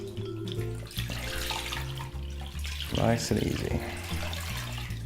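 Water poured from a tap into a pan holding a ham, a continuous splashing rush that rises as the pan fills, close by, with a person speaking briefly over it.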